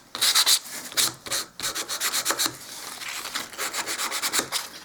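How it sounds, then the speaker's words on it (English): Light hand sanding of cheap wood with fine 220-grit sandpaper on a small hall table, a steady series of close rasping strokes in quick rhythm with no talking. "I've got a piece of fairly smooth sandpaper. I believe this is, it's 220. I'm just going to lightly sand."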